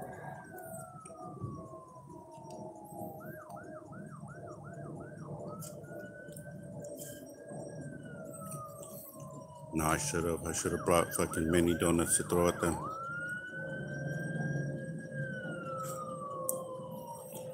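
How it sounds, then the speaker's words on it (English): Multiple emergency sirens from fire trucks and ambulances on a road in Downey, California, wailing and yelping in sweeping cycles, growing louder and denser midway, with steady traffic rumble and someone talking over them. "There's a bunch of fire trucks and ambulance on the road. I don't know if the sirens are coming here or not"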